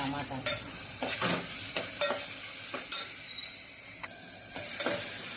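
Tomatoes fry in a pan for mulakaya mutton curry under a constant close sizzle, with repeated scraping stirs of a spoon at an irregular rhythm.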